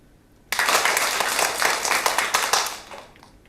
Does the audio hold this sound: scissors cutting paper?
no